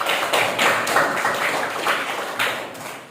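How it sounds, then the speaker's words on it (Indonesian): A classroom of students breaking into applause, a short burst of fairly close, lively clapping that rises and falls over about three seconds. "Kita kasih aplaus buat kita semuanya"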